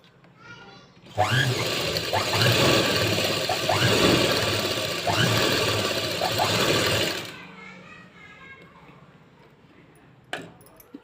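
A sewing machine stitches a blouse in one loud, steady run of about six seconds, then stops, with quieter handling sounds before and after.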